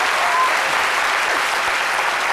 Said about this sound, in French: Allez, Raïssa Diaby, merci de l'applaudir très fort.